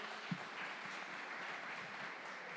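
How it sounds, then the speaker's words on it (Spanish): A congregation at a Christian church service claps in sustained, distant applause, a faint continuous patter with one louder near clap early on. "Démosle un aplauso al Señor por la vida de ellos."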